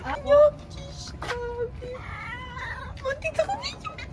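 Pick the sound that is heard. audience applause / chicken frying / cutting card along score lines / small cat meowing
small cat meowing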